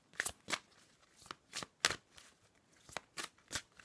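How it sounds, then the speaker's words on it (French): A tarot card drawn from the deck with a series of crisp, close card swishes and slides, about a dozen quick papery bursts in an irregular rhythm with quiet gaps between them. "Je vais vous tirer une deuxième carte."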